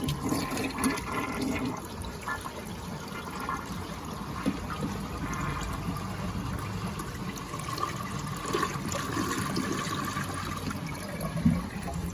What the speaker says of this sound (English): So I already turned the water off. So we'll go ahead and flush it.